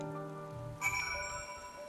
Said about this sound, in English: Oh god, and it's raining.